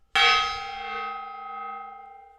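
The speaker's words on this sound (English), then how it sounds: "We'll hit the gong." A decorative gong is struck once, ringing out loudly with a sharp attack and a long, sustained, slowly fading metallic tone.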